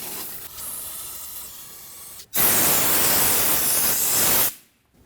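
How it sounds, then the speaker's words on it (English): Aerosol brake parts cleaner sprayed onto a rear brake hose fitting of a 2014-2019 Toyota Corolla, a loud, steady close-up hiss lasting about two seconds after a quieter lead-in spray, then cutting off sharply. "Use brake parts cleaner for this."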